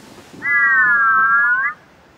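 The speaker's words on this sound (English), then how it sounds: "His whistle made a very different sound." A cartoon tank engine, Percy, sounds his broken train whistle: one sustained wavering, off-key tone of about a second, loud and alone over a faint background.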